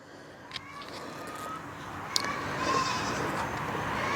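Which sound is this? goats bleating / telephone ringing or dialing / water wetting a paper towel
goats bleating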